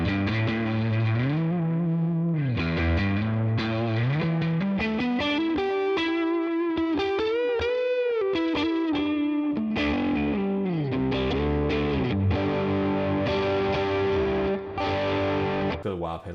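An electric guitar plays through the Neural DSP Tone King plugin's second overdrive, with the drive all the way up. The tone is mid-heavy and fuzz-like, with sustained bent and sliding notes, loud and continuous, and no talking over it.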